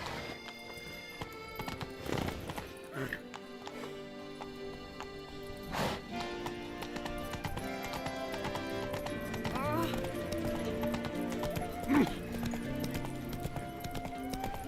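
A horse gallops in the video game Witcher 3: Blood and Wine, its rhythmic clip-clop hoofbeats running steadily beside a whinny, with game music and character voices layered on top.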